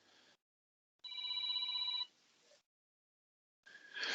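A mobile phone rings during a ward meeting, a short electronic ringtone with steady tonal bursts separated by silences, fairly close and alone without talk.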